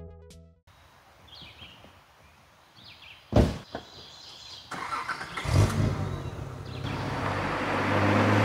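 A Nissan 300ZX is started and driven on a test drive after repairs: a door thumps, the engine fires and revs, and its road noise builds steadily louder toward the end.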